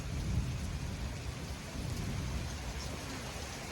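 Heavy rain pours steadily from a severe supercell thunderstorm, with low rolling thunder rumbling underneath throughout; the sound is dense, continuous and loud, with no voices.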